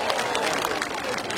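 Crowd applause at a gathering in Ndumberi, Kiambu County, a short burst of dense clapping, loud and close, running throughout the moment.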